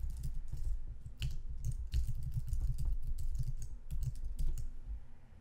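Quick bursts of keystrokes on a computer keyboard, close and moderately quiet, with short pauses between runs of clicky taps.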